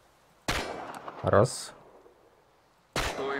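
Game gunfire at targets in the shooter Chernobylite: two sharp broadband shots about two and a half seconds apart, loud and close, with spoken instructions in between.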